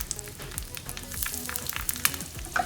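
Curry leaves, red chilies and hing sizzle and crackle in hot oil for a tempering, a steady close frying hiss with scattered pops and spits throughout.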